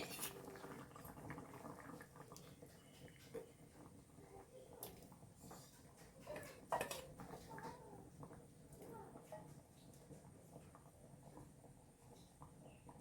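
Coconut-milk mackerel curry bubbling in a pan, a quiet continuous simmering burble with soft patter, one brief stir-like clatter midway, under faint background noise.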